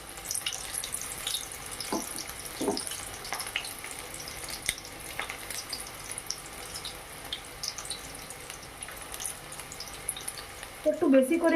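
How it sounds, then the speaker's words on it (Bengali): Spinach pakoras fry in hot oil with a soft, continuous sizzle and scattered crackles throughout, a few louder clinks of utensils, and a brief clatter at the end. "পালং শাকের পকোড়া ভাজার জন্য তেল গরম হয়ে গেছে, এবারে একে একে ভেজে নেব।"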